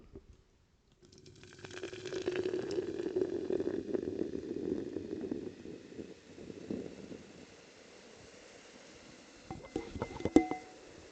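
Sprite Tropical Mix soda poured into a glass, a steady fizzing pour lasting several seconds, then a bubbly crackle of carbonation with a few sharp clinks near the end, close and quiet with no talking.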